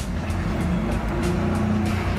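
Car driven forward by Sebastian Vettel and Michael Schumacher, one on throttle and one steering, a steady close engine and road rumble with faint periodic bursts of noise.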